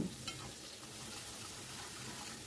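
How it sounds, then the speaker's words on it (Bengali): Chopped onion frying in oil with a pinch of turmeric and chilli powder, a steady close sizzle with faint stirring scrapes throughout, no talk. "আমি ওই তেলের ভেতর দিয়ে দিলাম কুচনো পেঁয়াজটাকে আমি একটু ফ্রাই করে নেব।"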